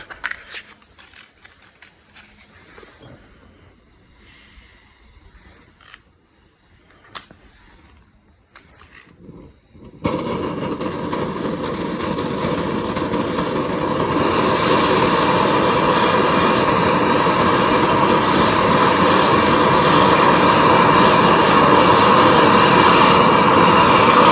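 A Trangia multifuel X2 camping stove running on a gas canister ignites and then burns at full power with a loud, steady roaring hiss, preceded by quieter clicks and handling.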